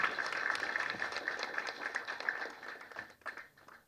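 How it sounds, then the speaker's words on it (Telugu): An audience applauds at a Telugu film press meet, a steady patter of many hands clapping at moderate distance that thins and tapers off toward the end. "and a big clap for them"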